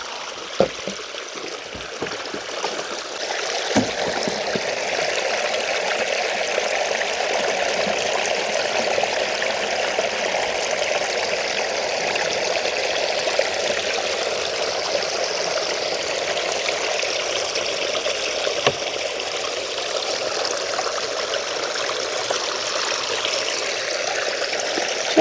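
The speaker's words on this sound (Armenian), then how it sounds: "Չէ, լավ է լցվեց, մաքուր ջուր է, թող լցվի։" Clean water pours steadily and fills a container outdoors on a plot of land, a continuous close rushing trickle lasting throughout with no talk.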